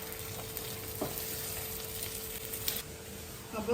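Thrissur-style pork roast sizzles steadily in a pan while being stirred, a continuous soft frying hiss with occasional scraping touches, close and even throughout.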